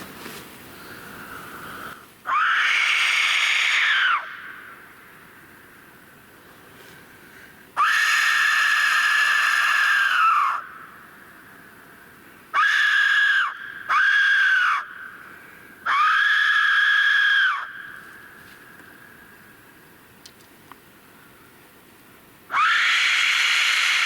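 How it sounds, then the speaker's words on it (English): A death whistle is blown in several loud, shrill screaming blasts of varying length, separated by quiet pauses in an outdoor setting. "Yep, death whistle."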